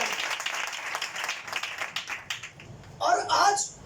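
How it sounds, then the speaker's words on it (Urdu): Congregation clapping during a church sermon, a brief spatter of applause mixed with the preacher's voice, then someone speaking alone. "جنیا کی تالیاں بجی ہیں"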